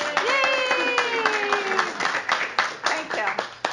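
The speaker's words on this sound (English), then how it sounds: "So if you guys could give Rebecca a really big round of applause." An audience at a bookstore novel presentation claps warmly, a short burst of many hands with a voice cheering over the start before the clapping tapers off.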